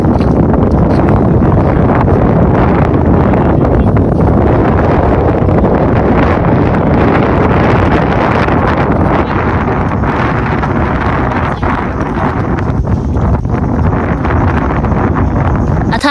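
Strong wind at a boat pier buffets the microphone in a constant loud roar, steady throughout with a slight easing near the end.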